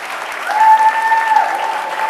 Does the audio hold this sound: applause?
yes